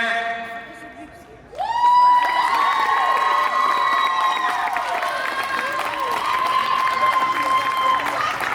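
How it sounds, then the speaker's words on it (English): At a bikini pageant, a crowd cheers and whoops for a former titleholder after a quiet lead-in, with music-like tones and loud sustained noise rising suddenly and continuing to the end. "Everyone give Crazy. up a huge round of applause for Dare."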